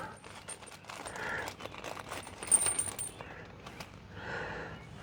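An air shocks hardware kit for a 1965 Mustang is opened, and small metal bolts and washers clink and rattle lightly in a quiet garage, with a brief louder jingle midway.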